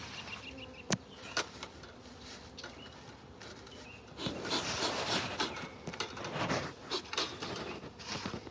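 Honeybees hum around an open beehive, a steady close buzz that swells louder partway through, with scattered knocks and clicks of hive equipment.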